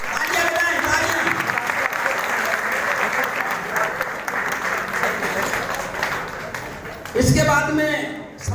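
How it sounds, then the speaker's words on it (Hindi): Sustained applause from an audience at a Samta Sainik Dal foundation day gathering, dense and steady for several seconds, with a voice briefly rising over it near the end. "तालियां बजाएं, तालियां।"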